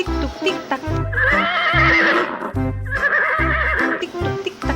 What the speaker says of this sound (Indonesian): Wah, ini juga ada kuda warna putih.